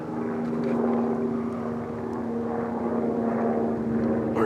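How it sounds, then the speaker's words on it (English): An aircraft, taken for a Black Hawk helicopter, passes high over a forest teepee camp as a steady, droning engine hum with a low tonal whine that swells slightly and fades, with no talk. "I think we got a Black Hawk coming"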